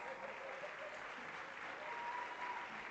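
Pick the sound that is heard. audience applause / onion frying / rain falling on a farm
audience applause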